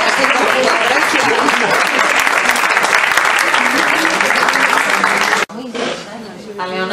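An audience at a book presentation in Zaragoza gives loud, dense, sustained applause for over five seconds, which stops abruptly before a voice begins speaking.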